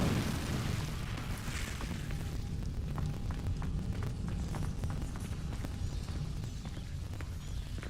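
An Incendio fire spell cast in Hogwarts Legacy, a steady roaring whoosh of flame that starts at full force and holds loud throughout, with faint crackling and small pops on top.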